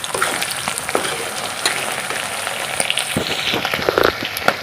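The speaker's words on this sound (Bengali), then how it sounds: "ওদিকে পেঁয়াজ টমেটো ক্যাপসিকাম মরিচ দিয়ে দিয়েছি।" Onion, tomato, capsicum and chilli fry in a pan with a steady close sizzle and crackle, broken by scattered sharp pops and spatters throughout, with no voices.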